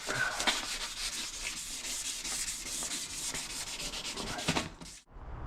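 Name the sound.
wet sanding a car panel with 1200 grit sandpaper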